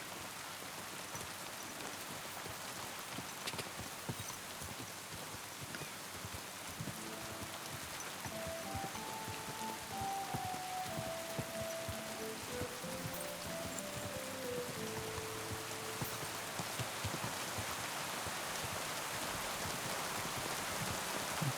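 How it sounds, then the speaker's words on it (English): Steady rain falls in Kingdom Come Deliverance 2 as a constant dense hiss of drops with no talk, while a soft melodic music line drifts in midway. "Bloody rain."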